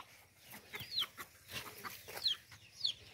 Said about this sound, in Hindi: ये देखें मुर्गियाँ वगैरह अंदर कितने ज़्यादा घूम रही है बाड़े में